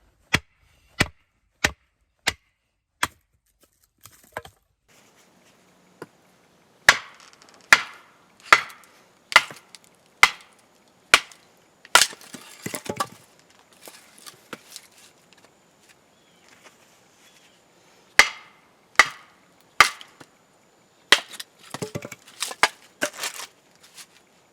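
Cold Steel Recon Scout knife chopping and splitting wood, giving a series of sharp, separate thwacks at a steady pace, close and clear, with crackling splits and scraping between blows.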